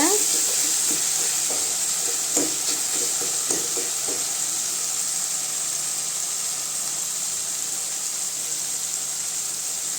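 Tomatoes sautéing in a pan for mango vathal kuzhambu give off a steady, close frying sizzle, with a few soft stirring knocks and no talking.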